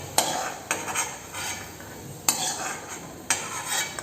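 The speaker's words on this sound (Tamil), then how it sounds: "இப்போது இந்த நெய்யிலே பார்த்திங்கன்னா இந்த சேமியா வறுத்துக்கலாம்" Vermicelli stirred and roasted in ghee for semiya kesari, a spoon scraping the pan in repeated strokes over a steady sizzle, close and alone with no talk.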